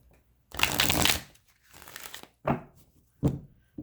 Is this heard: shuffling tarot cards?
yes